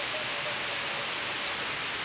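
Steady rain falls in Kebunungan Serono, a dense, even hiss of drops with no gaps or voices, fairly close and constant throughout.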